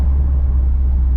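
A 2021 Mustang GT with a Coyote V8 and E85 tune running, heard from inside the cabin as a loud, steady low engine rumble with no talk.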